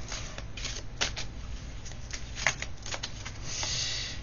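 A deck of long tarot-style cards is shuffled close up in a series of quick crisp riffles and slaps, with no voices.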